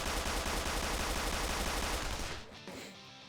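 Rapid automatic gunfire in Persona 5 Royal, a dense, loud burst of shots lasting over two seconds before cutting off into a quieter tail.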